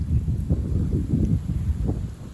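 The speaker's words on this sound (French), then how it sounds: "Par contre, le vent, ça souffle." A strong south wind blows during a brief spell of wet snow and sleet, making a continuous gusty rumble that buffets the microphone, with no talking.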